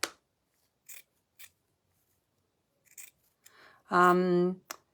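Scissors cutting burlap fabric with a few short, crisp snips spaced by pauses, followed by a person speaking briefly.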